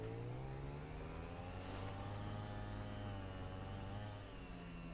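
A video game motorcycle engine drones steadily through a loop-the-loop, holding a continuous mid-pitched hum with a slight rising and falling pitch, loud and close with no talking.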